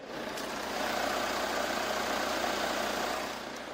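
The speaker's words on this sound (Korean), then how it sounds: "확실히 일반적인 디젤 차량들보다는 정숙한 엔진 소음 만나보실 수가 있습니다" Kia Sorento R 2.2 diesel engine idling with the bonnet open, a steady, quiet, even hum with a soft low rumble throughout, heard alone at moderate level.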